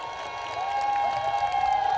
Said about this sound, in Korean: 박수가 야게.